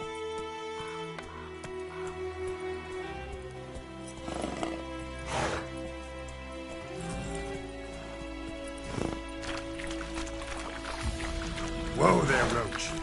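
Roach, the horse in The Witcher 3 video game, with hoofbeats and neighing mixed into a busy game soundtrack of music and effects, with voices speaking over it.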